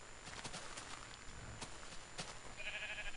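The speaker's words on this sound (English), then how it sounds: "There you are, cow and sheep." Faint bleating from Minecraft sheep with a cow nearby, low in the mix over steady game ambience and soft footstep-like taps, a brief higher call near the end.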